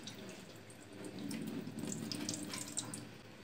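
Water drained from a raw chicken package trickles and splashes faintly into a sink, a soft pouring that swells briefly and continues steadily without talking.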